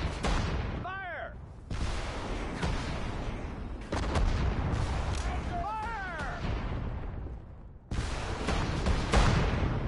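Artillery and gunfire in a war video game, heavy booming blasts in several bursts with whistling shell sounds, loud and close, and shouted commands heard between volleys.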